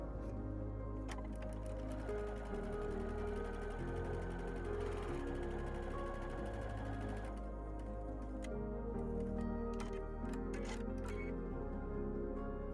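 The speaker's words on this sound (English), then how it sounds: "I will put the lid section to the top of the jar and sew using a 1/4 inch seam allowance." A sewing machine stitches a quarter-inch seam joining a lid section to a jar piece on a Christmas table runner, a steady mechanical whir that runs continuously under a low background hum with slight shifts in pace.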